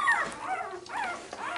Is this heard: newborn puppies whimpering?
yes